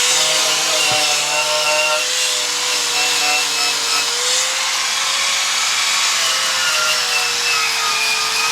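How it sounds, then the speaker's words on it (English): A wire wheel on a power grinder strips paint from a Jeep Cherokee XJ unibody frame, a loud, continuous high whine with a shifting tone, close up and with no talking. "I'm just going to grind down a little bit more paint, get a wire wheel"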